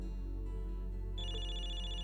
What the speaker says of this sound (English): I can hear someone's phone ringing from the back.